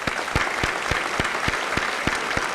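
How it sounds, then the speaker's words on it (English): Applause for school administrative staff fills a senior assembly, with many hands clapping and a few sharp, regular claps standing out, steady and fairly loud with no talk. "I'd like to give them a nice round of applause at this time."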